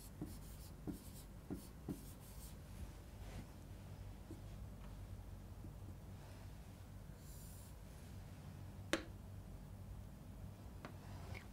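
Pen writing out a lens formula solution on paper, faint scratchy strokes in short irregular bursts with pauses and one sharper tap, quiet and close, no talking.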